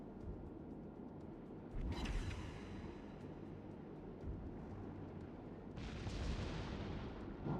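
Naval gun fire in World of Warships: Legends, two muffled distant booms a few seconds apart over a steady low rumble, fairly faint overall.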